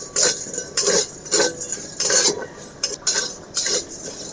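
Whole coriander, dried red chilies, black peppercorns and cumin with salt are roasted in a hot wok, stirred with a metal spatula that scrapes and clinks in short repeated strokes, close and alone.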